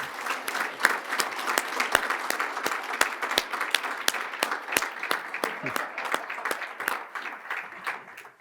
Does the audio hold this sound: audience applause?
yes